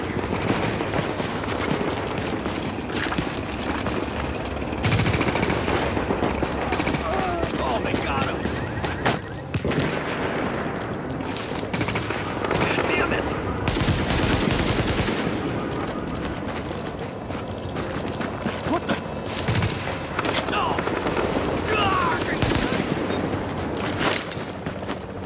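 Gunfire rattles through a firefight in Tom Clancy's The Division video game: repeated loud bursts of automatic shots, some close and some further off, with short pauses between them and voices shouting in the background.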